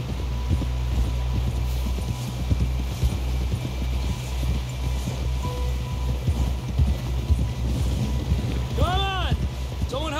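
Horse hooves clip-clop in a steady trotting rhythm in the Western game Red Dead Redemption 2, moderately close, under wind noise and a low steady hum, with voices talking over it toward the end.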